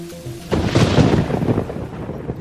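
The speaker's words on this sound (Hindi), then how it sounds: "अचानक ही तेज हवाओं के साथ बादल, बिजली कड़कने लगते हैं और बारिश होने लगती है" A deep thunderclap rumbles in during a storm with strong wind and rain, a loud broad roar that swells and then rolls on steadily.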